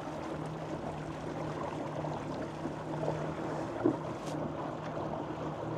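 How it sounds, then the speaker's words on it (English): Boat pushed along by three electric outboard motors, a low steady hum with water wash and light wind over the microphone, continuous and even with no one speaking. "We're running 3 electric outboards on here."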